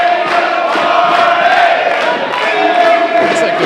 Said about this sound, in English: The crowd maybe evenly both for the Party Crashers and the Buddy System, and no matter what, Boulder dancing around.